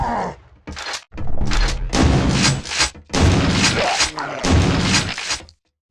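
The super shotgun in the video game Quake II fires repeatedly, each heavy blast booming with a crunchy tail, roughly five shots spaced about a second apart with brief gaps between them.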